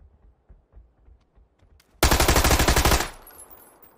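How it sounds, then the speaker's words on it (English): A Tommy gun firing in PUBG, one loud close automatic burst of about a second of rapid evenly spaced shots, preceded by quieter soft footstep-like thuds and followed by a brief fading tail. "I love the Tommy gun in PUBG"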